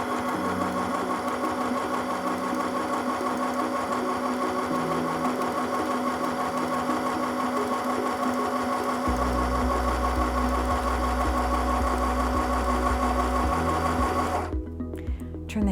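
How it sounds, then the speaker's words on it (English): A blind stitch sewn on an M1000 sewing machine, its motor whirring steadily with a rapid needle rhythm that shifts pace partway through, running close and loud for about fourteen seconds before stopping. "Next, let's try the blind stitch."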